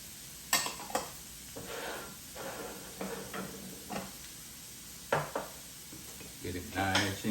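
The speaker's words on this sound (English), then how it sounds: "Stir that up for a minute." Vegetables for chicken fried rice are stirred in a Power XL cooker. Quiet scraping and clinks of a utensil against the pot come in irregular bursts, with soft sizzling and a few sharp knocks.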